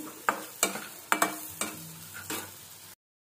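A butter, garlic and egg mixture being stirred in a pan, with a spoon scraping and knocking in a run of short strokes and a soft sizzle underneath, close and fairly quiet.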